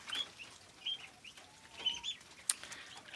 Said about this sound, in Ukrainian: Півники співають.